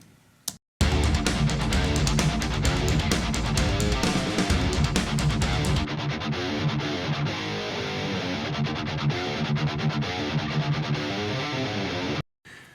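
Dry electric guitar tone with no post effects, a continuous loud riff of chugging, heavily driven notes with sharp stops, played alone with no talking.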